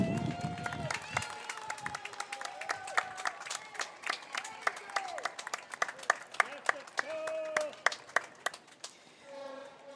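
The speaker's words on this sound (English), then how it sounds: "let's have a round of applause for the veterans" Outdoor crowd at a hometown day parade applauds veterans, scattered sharp claps building into a steady, fairly loud patter with some cheering mixed in.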